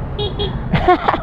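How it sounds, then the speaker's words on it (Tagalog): Two quick high beeps from an Aprilia SR 200 GT scooter horn, followed by a person talking nearby. "Yung busina niya."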